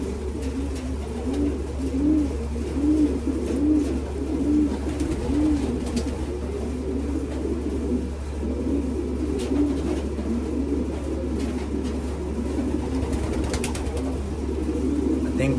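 Racing pigeons coo in a loft, a steady layered run of low rolling coos over a constant low hum, fairly close and continuous throughout.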